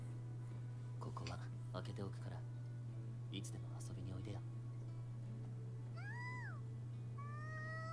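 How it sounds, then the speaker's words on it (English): A cat meows twice near the end, a short rising-falling call followed by a longer one, coming after soft, whispery talk over a steady low hum. "It's kind of just like an outdoor cat."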